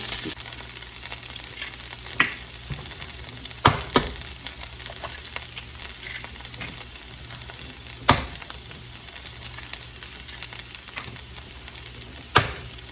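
Spam and chopped vegetables sizzling in a pan, a steady crackling fry throughout with a few sharp scrapes and pops, nearby and moderately loud, no talking.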